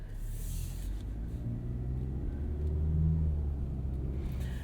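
Steady low engine drone and road rumble from a 2018 Hyundai Santa Fe Sport 2.0-liter turbo AWD under way, heard from inside the cabin, swelling slightly midway as the engine pulls, with no talk over it.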